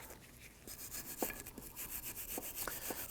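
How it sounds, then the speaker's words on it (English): Stiff bristles scrape in short, uneven strokes against a rusty metal brake part of a Volvo XC90, a steady close-up scrubbing with occasional sharper rasps. "use some rust penetrant on here and use that bristle brush"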